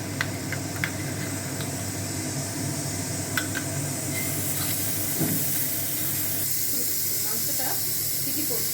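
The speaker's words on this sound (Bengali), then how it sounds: "গোটা রসুন ভালো করে পরিষ্কার করে ধুয়ে এখানে ভাজতে দিয়েছি।" Mutton frying in a pan with whole garlic cloves and garlic paste, a steady close hiss and sizzle running throughout with occasional small pops and clinks.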